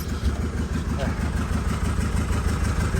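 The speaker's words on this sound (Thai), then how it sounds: "ติดเครื่องให้เรียบร้อยแล้วครับติดเครื่องฟังเสียงเรียบร้อยนะครับ" A 2008 Isuzu D-Max pickup engine idles with a steady low, even rumble close by, with faint background sounds over its short run.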